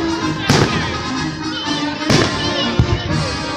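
Fireworks by Pyrotechnico burst at a Westminster College show, with two loud booming explosions about a second and a half apart, a smaller pop after, and crackling over a steady crowd-and-ambient rumble.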